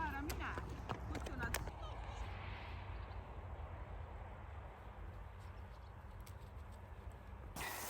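Horses' hooves clip-clop on a road, a steady, fairly faint patter of hoofbeats running throughout, with a few louder bursts near the start.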